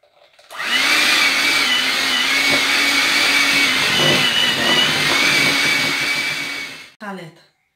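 An electric mixer whirs steadily through apple cake batter, a loud continuous motor drone lasting about six seconds before cutting off, followed by a short clatter.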